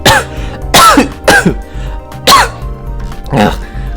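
Several harsh, throaty coughs in quick succession, loud and close, with short pauses between the bursts.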